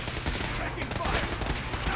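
Rapid gunfire from a Fallout 4 battle, dense bursts of automatic and overlapping shots crackling continuously and loudly throughout, with a voice calling out amid the firefight.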